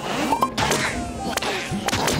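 An insect buzzes in the Switch game Headland, a whining drone with whooshing swipes and sharp hits mixed in, fairly loud with no talk.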